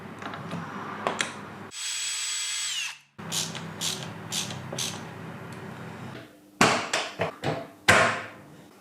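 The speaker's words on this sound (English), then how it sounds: "drill out some 35mm holes centered" A power drill whirs in several bursts, boring 35mm hinge holes in a cabinet door, winding up and down, with clunks and short knocks between the runs.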